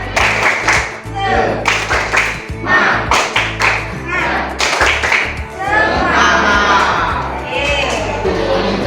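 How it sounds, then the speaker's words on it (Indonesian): A classroom of schoolchildren performs a rhythmic spirit clap, with sharp patterned claps and taps in quick bursts, loud and close, mixed with chanting young voices and a teacher's speech. "tepuk semangat yuk"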